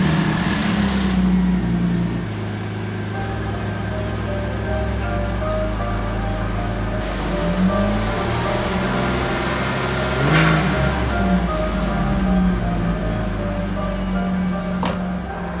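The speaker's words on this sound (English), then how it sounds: "So now I can start the car and check for any leaks." A rebuilt, previously wrecked Porsche Boxster S engine starts and is run for a leak check after a top-up. It rises and falls through several loud revs, then settles into a steady close idle.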